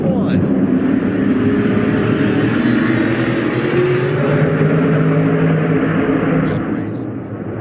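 SRX race cars, with Hunter-Reay's black car and Hailie Deegan's blue car side by side into turn 1 at Stafford Motor Speedway, in 2022, roaring loudly and continuously with engine tones shifting as they pass.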